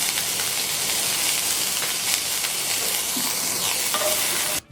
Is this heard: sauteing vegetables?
yes